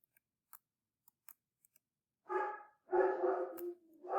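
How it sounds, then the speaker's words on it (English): A dog barks in the background, starting with faint scattered clicks and then breaking into two loud, close bursts of barking with a third starting at the end. Nobody speaks. "my dog is going crazy in the background"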